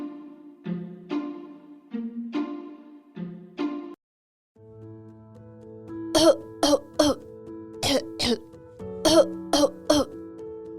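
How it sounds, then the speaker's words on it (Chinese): Repeated coughing and throat clearing, several short harsh bursts at first, then a brief pause followed by a run of sharp, loud coughs over a low background tone. "小猪胖胖最近也一直在咳嗽"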